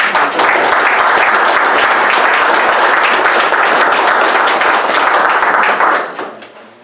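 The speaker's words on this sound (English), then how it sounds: "How about a round of applause for Chris?" A round of applause at an East Cocalico Township Board of Supervisors meeting: a dense, loud burst of clapping from the audience that holds steady for about six seconds, then tapers off quickly.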